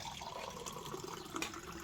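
Water running from a tap in a rural home kitchen, a soft continuous splashing stream at low level, fairly close, with no talking over it.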